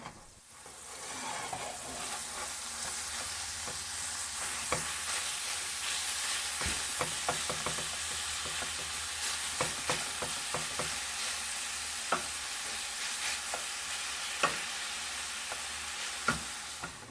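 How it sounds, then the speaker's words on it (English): Ground meat browning in a pan for chiles rellenos, a steady close sizzle with scattered scraping and tapping from a utensil breaking up the meat. "I'm going to break the meat apart and brown it"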